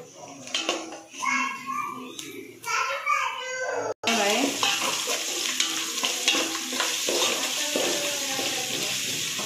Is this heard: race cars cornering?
no